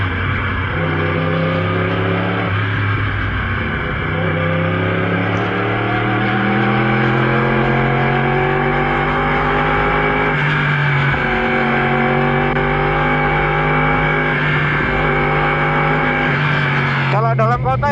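A 2018 Yamaha R1 motorcycle with an Akrapovic Evolution Line full exhaust system, its engine loud and close as it revs up and down through rising and falling pitch sweeps while being ridden in town.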